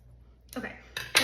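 Scissors cutting through quilt batting for a handmade hanging sign: a few short, crisp snips, the last one loudest, in an otherwise quiet room.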